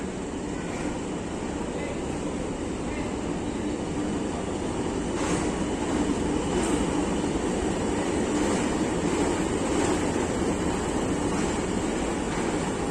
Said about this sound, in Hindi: टू डाउन खैबर में रावलपिंडी स्टेशन पे आ रही है